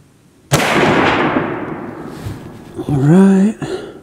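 A single sharp, loud .308 rifle shot fired with cheap ammunition at a shooting range, with a long decaying echo rolling away afterward, followed by a person's voice speaking briefly near the end.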